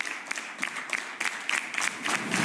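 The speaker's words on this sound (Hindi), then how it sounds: "इनके लिए एक बार जोरदार तालियां बजा दें।" A crowd claps steadily in a brief round of applause, bursts of clapping blending into a continuous patter.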